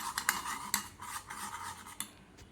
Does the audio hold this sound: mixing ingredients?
yes